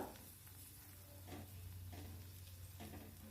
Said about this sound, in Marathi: हे सर्व मसाले आपल्याला तेलावर छान परतून घ्यायचे आहेत